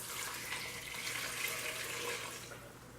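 Stock poured into a slow cooker for Dublin coddle soup, a steady liquid splashing and trickling pour at moderate volume that tapers off near the end.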